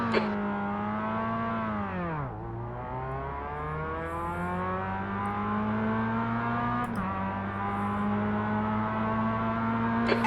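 A Mazda MX-5 Cup race car engine in the iRacing game, loud and steady from start to finish, with its pitch climbing through two upshifts and brief dips between gears.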